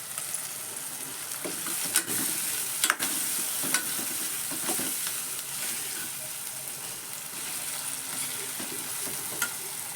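Steady sizzling of chopped, washed coriander frying in a hot pan, with occasional stirring scrapes and small pops, close and continuous with no talking.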